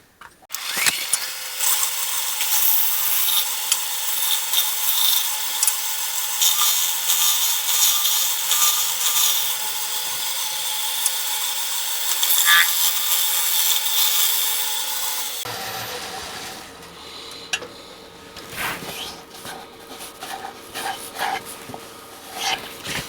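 A sharpened scraper finish-turning a green wood bowl on a lathe gives a steady, close scraping hiss for about fifteen seconds, then the lathe winds down to quieter rubbing and knocks.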